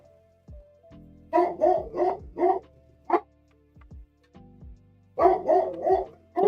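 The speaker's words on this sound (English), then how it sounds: "Sorry about the dogs barking." Several dogs bark in short bursts of two to four barks, separated by quiet gaps, fairly close by.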